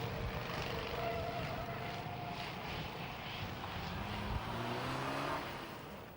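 Go-karts race around the Castle Combe go-kart circuit, with a steady, fairly distant drone of small engines whose pitch rises and falls as the karts pass and accelerate.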